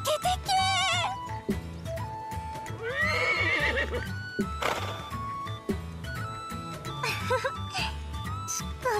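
A horse in the Atelier Lulua video game neighs and whinnies several times over steady clip-clopping hooves and background music, with characters' voices speaking at times.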